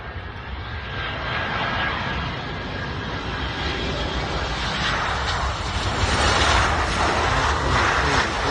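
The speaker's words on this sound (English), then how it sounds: "There's another plane coming." An airplane passes overhead during plane spotting, a loud, sustained engine roar that swells toward the end and fills the whole stretch with no talking.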